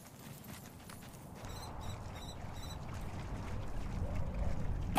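Horse hooves in The Valiant, a medieval video game, clip-clopping in a busy rhythmic patter under a rumbling outdoor ambience that grows louder toward the end.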